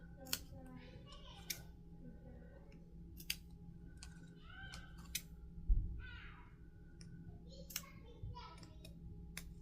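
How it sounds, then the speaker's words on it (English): Scissors or snips cutting fabric straps in a sewing workspace: sharp quiet snips and clicks spaced through the stretch, with a soft voice talking now and then and a low steady hum under everything. "You can use your scissors or your snips, and then I'm going to cut."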